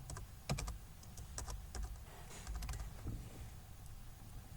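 Quiet clicking of computer keyboard keys, typed in short irregular bursts as Python code is entered, light and close with no voices.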